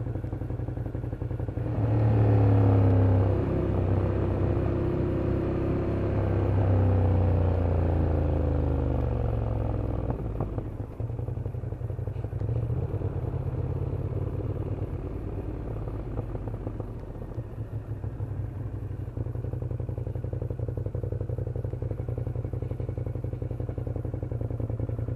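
Ducati Monster 1200 twin-cylinder motorcycle engine droning while riding, a steady deep rumble with shifting pitch in the first half, then a continuous rougher hum with wind noise for the rest.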